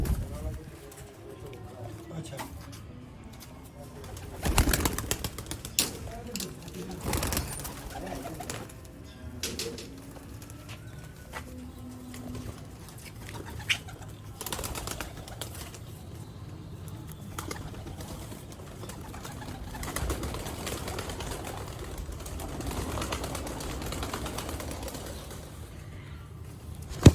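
Sialkoti pigeons coo softly in a loft, with occasional wing flaps and clatter, while someone talks over them throughout at close range.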